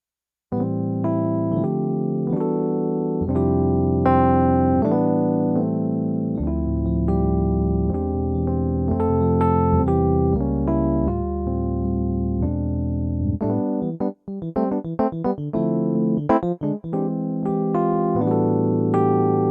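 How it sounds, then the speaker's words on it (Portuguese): A Rhodes electric piano plays sustained chords and melodic lines with a bell-like metallic tone, close and clear, followed by a livelier passage of shorter repeated notes; no voices. "esse é o som do Rhodes"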